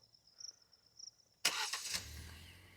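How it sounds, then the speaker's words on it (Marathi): A Kia Seltos with a manual gearbox starts by remote start: a sudden loud burst as the engine catches, then a steady low idle rumble. Before it, faint insect chirps and near silence. "तर लाईट मित्रांनो लागताना गाडी चालू होऊन जाते"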